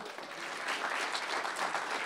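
Audience applause at an evening space-industry gathering, a brief, dense patter of many hands clapping at moderate volume, steady and unbroken with no voices over it.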